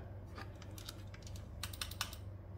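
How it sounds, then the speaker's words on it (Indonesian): A computer keyboard, connected to a mini PC under repair, is tapped in short irregular bursts of clicky keystrokes, close and fairly quiet over a low hum, with no talking. "Sebentar, saya coba colokin keyboard ya."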